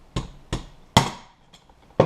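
A pin is knocked out of a Crosman air rifle using an Allen wrench, giving four sharp, close metallic taps in an irregular rhythm, the third strike loudest with a short ring, with no talking.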